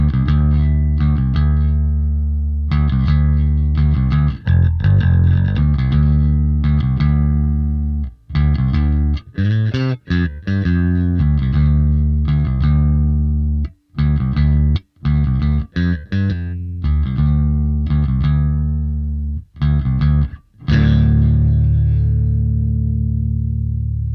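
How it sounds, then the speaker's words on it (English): A Fender Jazz Bass played through an Orange Two Stroke boost EQ pedal set flat, with deep sustained notes and short phrases separated by brief gaps, loud and alone. "let's listen to Kai with the pedal again set neutral, playing his Fender Jazz Bass."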